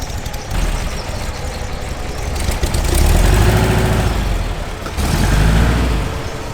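A Porsche 912 engine idles nearby, a steady low air-cooled burble that swells in loudness twice, with no talking over it.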